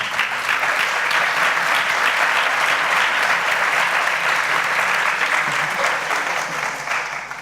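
An audience at a political participation congress breaks into sustained, loud applause, a dense wash of clapping that holds steady and fades slightly at the end.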